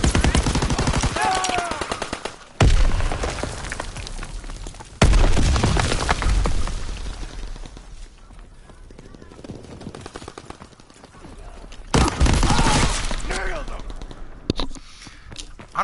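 Rifle and automatic gunfire ring out in a WW2 shooter game, loud repeated bursts separated by brief pauses, with someone talking over the shooting.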